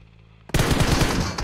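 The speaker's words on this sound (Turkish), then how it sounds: "önümüzde silah sesleri gelmeye başladı gördüm." Rapid automatic gunfire from the mobile battle-royale game PUBG Mobile bursts in loud and close after half a second of near silence, then continues as a dense, rattling volley to the end.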